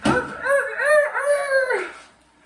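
A chicken makes loud, close, harmonic crowing-like calls that rise and fall in pitch over about two seconds before fading, heard alone with no talk.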